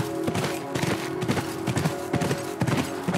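Horse hooves gallop in The Last of Us video game, a steady, loud clip-clop rhythm of repeated hoofbeats running through the whole stretch over dense game background noise.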